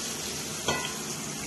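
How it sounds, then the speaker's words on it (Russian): Zucchini slices fry in a pan with a steady, close hiss of sizzling oil and a brief stir-like scrape midway, no talking. "корочки жарятся кабачки"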